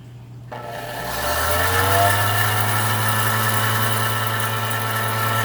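A homemade Dremel-powered centrifuge starts up and runs steadily at low RPM, its motor whine rising over the first second and then holding a loud, continuous hum with a buzzing rattle, close by and with no one talking.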